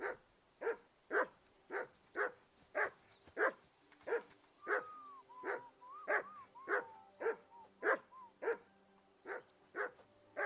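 A dog barks over and over in the video game Kingdom Come: Deliverance II in a steady, regular rhythm, about two barks a second, fairly close, with faint whistling tones in the middle.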